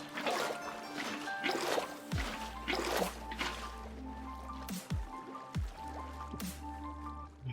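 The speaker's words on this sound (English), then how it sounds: "Now, we need to make this into actual, like, flowing water all the way through." Water flowing and trickling in the Minecraft video game, a steady wet dribbling stream with intermittent squishy drips and low watery surges, fairly close and with no talk over it.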